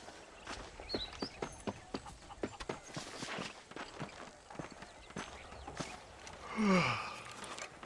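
A horse's hooves clip-clop at a steady walking pace in the Western video game Red Dead Redemption, moderately near, with a brief breathy vocal sound toward the end.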